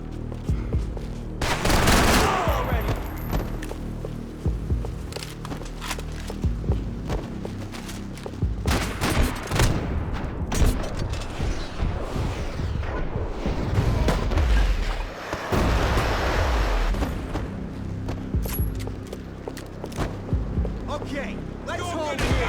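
Sustained gunfire in the action shooter Max Payne 3, dense overlapping shots and booms from several weapons throughout, continuous and fairly loud, with no clear speech.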